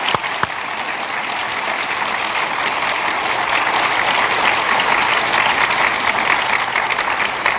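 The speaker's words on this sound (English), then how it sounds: "Let me ask you to join them, me in a round of applause." An audience at an evening healthcare discussion with two former governors breaks into sustained applause, a full, even roar of many hands clapping that swells slightly and continues without pause.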